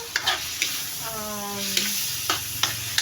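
Pork pieces frying in a pan for monggo, with a close, continuous sizzle broken by soft stirring clicks and scrapes at irregular intervals.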